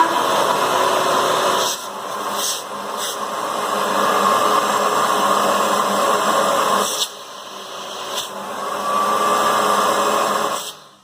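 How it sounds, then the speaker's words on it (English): A Ridgid NXT wet/dry shop vacuum (2018) runs with a steady loud whooshing roar, briefly dipping and cutting in twice as the airflow changes, then winding down at the end. "So the Ridgid is substantially more powerful than the shop vac."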